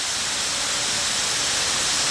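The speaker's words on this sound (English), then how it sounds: "In this water pool here, there's 38 special nozzles that spray water, 871 gallons per minute water" Steady, loud hiss of water jets from the 38 aerated nozzles of a pool at the Fort Worth Water Gardens, a constant close spray with no voices.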